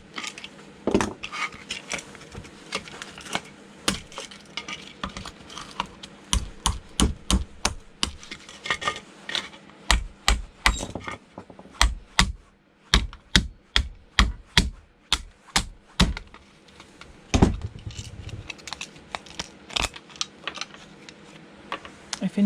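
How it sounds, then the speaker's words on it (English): Brass pins hammered on a hard surface, a long run of sharp metallic blows, some isolated and some in quick rhythmic bursts, close and loud over low background noise. "If in doubt, hammer them out."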